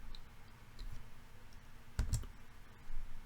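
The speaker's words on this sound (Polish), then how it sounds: "Dobrze, klikamy tutaj." Quiet, sharp computer mouse clicks sound while working in Excel Power Query, a close pair of clicks standing out midway against faint room hum, with a few softer ticks around them.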